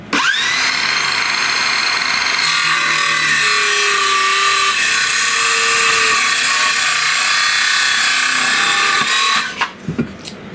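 A Makita-battery-powered saw running on an adapter cuts through a wooden board in one continuous loud, whining pass, with the motor's pitch dipping under load before spinning down near the end.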